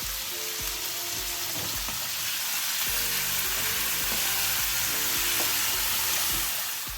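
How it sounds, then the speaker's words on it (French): Small lardons fry in olive oil in a pan for spaghetti carbonara, a close, steady sizzle with occasional clicks and stirring knocks. "je vais y mettre mes petits lardons. Et je vais les faire revenir"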